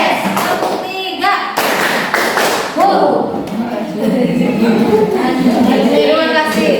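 A primary school class does a rhythmic clapping pattern together, with loud, close, rapid claps and thumps mixed with children's voices and an adult speaking over the top.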